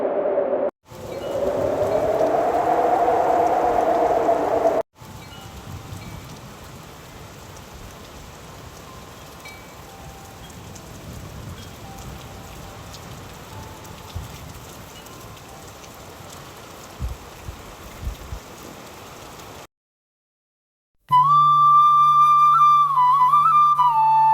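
Rain pours steadily through a forest, a dense, even patter that starts loud and then settles into a softer continuous wash for most of the stretch. It cuts to silence near the end, followed by a short bright musical tone.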